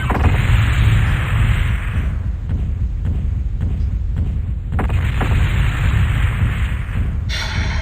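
A mech is destroyed in the MechWarrior 2 video game, with loud, continuous rumbling explosion noise booming throughout and a sharp burst near the end.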